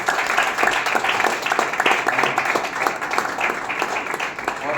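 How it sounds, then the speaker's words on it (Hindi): Audience applause at a lively company stage program, a steady dense wash of many hands clapping throughout, fairly loud and sustained without pause. "एक बार जोरदार तालियां भेज सकता"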